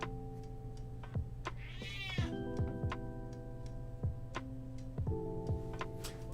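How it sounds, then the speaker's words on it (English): A domestic cat meows once, a drawn-out close call, while a clock ticks steadily and tonal electronic hums run in the background. "I'm gonna feed this cat"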